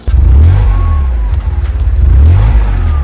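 A Citroën C6's V6 biturbo engine revs hard and close, rising in pitch, easing off, then climbing again in a second loud rev.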